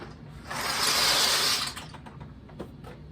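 A mechanical kitchen timer is wound with a rapid ratcheting whirr lasting about a second, close and fairly loud, followed by faint ticks and clicks.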